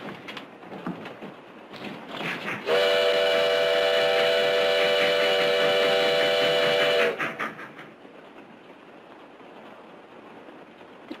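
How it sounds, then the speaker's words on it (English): Steam-era passenger train in the Old West, a loud sustained multi-tone whistle blast lasting several seconds over rumbling, clattering wheels and rail noise that continue before and after. "The train goes so fast."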